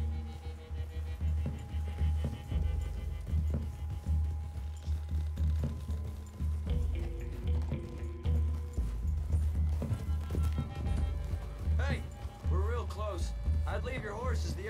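Horse hooves clip-clop at a walking pace through a wooded clearing in Red Dead Redemption 2, fairly close and steady. They sound under frequent character dialogue and other game sounds.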